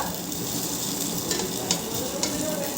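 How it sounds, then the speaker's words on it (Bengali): An uttapam fries in a pan with a dense, steady sizzle that stays close and continuous throughout, topped by a few faint scraping clicks. "গা উত্থাপামটা ভাজা হচ্ছে"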